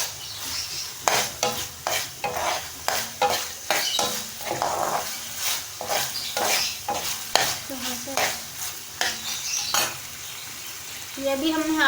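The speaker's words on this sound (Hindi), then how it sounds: "ये मिक्स करेंगे इस तरह से, अच्छी तरह से मिक्स करेंगे।" A spoon stirs sandwich filling with tomato ketchup in a pan for a triple club sandwich, giving repeated close scraping strokes in an uneven rhythm over a light sizzle, with occasional clinks of utensil on metal.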